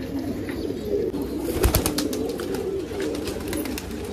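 Low, soft cooing from fancy pigeons rises and falls close by, repeating steadily under light outdoor background noise.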